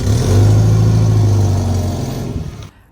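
A Toyota Hilux engine revving loudly up close, a sustained deep roar that holds steady and then cuts off abruptly near the end.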